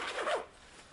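A single quick zip is drawn on a Dainese Razon leather motorcycle jacket, close and fairly faint, then fades into quiet room tone.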